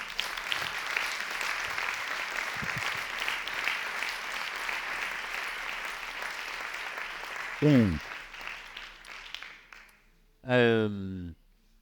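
Applause from a seated audience at a talk on post-traumatic stress, a steady wash of clapping for about eight seconds that fades out. Short bursts of speech come after it.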